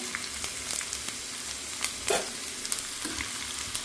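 Food fries in hot oil with a constant, close sizzle and crackle, with light stirring knocks now and then.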